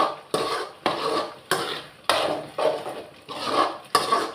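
Prawn thokku being stirred in a metal cooking pan, a series of sharp utensil scrapes and clanks against the pan repeating about every half second, close and loud with a faint sizzle underneath.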